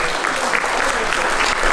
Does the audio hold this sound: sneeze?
no